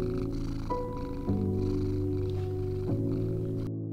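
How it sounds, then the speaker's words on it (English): A domestic cat sitting on a desk purrs steadily and close up for nearly four seconds, a low, continuous rumbling drone with slight shifts in pitch, and no talking. "my cat is on my desk and he's purring away right now"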